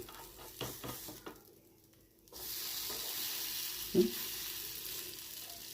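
Buttered bread is laid butter side down on a hot pan over a gas flame and crackles with a steady, moderate sizzle after a brief quiet spell, with a single sharp tap partway through.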